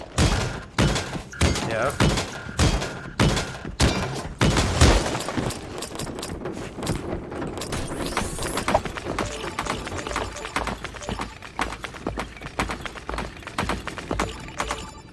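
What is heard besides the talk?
gunfire in Creative Destruction video game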